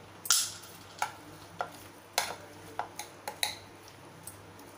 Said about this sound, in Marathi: हे बघा आता हे आपल्याला छान मिक्स करून घ्यायचं आहे